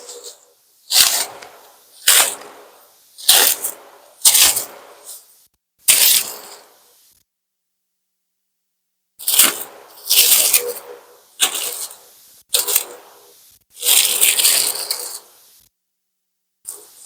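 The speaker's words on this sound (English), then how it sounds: "Let's unwrap this." Packaging being unwrapped for doughnut making, heard as a run of loud crinkling, rustling bursts in two groups with a short silent gap between them, close up and with no talking.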